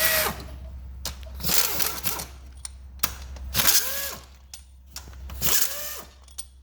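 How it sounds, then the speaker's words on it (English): An impact gun removing the cylinder head bolts of an RB26 engine, firing in short, loud rattling bursts spaced about a second apart, close up over a low background hum, with no one talking. "once they're all broken free, some kind of gun is the way to do it, because that's a lot of thread"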